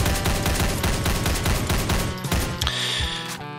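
Rapid, dense gunfire from the video game Doom 2 - Hell on Earth rattles loud and continuous, then thins into a few mechanical clanks near the end.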